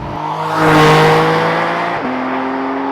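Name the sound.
sports car dual-clutch gearbox shifting while accelerating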